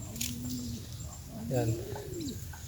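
Domestic pigeons cooing in a loft, soft gliding calls close by, with someone talking over them.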